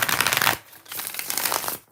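Close riffling of a tarot deck during a live reading, two bursts of papery shuffling separated by a short lull, with no voice over it.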